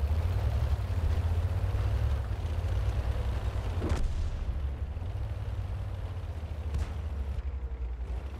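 Artillery fire in a tank battle video game: a constant low rumbling engine drone with a couple of sharp, distant booms cutting through.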